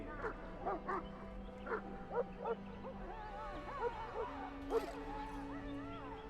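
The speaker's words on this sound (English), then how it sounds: "I fear your hound has the kitchens in uproar once again." Mabari war hound from the Dragon Age: Origins game barking in several short bursts with whimpering yips, set against a steady background drone and low music.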